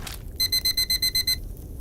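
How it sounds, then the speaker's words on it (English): An alarm clock goes off at six in the morning: a rapid series of eight bright, high beeps in an even rhythm, loud and close, then stopping, with quiet room noise before and after. "I didn't realise that it was 6 o'clock the alarm went off"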